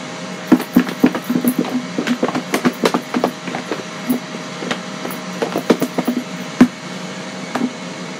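Chicken wings are shaken in a container of breading mix, a close, rhythmic rattle of quick bumps and knocks that keeps going in bursts.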